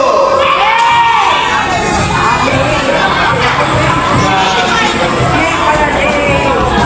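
A large group of scouts shouts a group yell together in formation, loud and continuous, a dense roar of young voices with cheering and whooping mixed in.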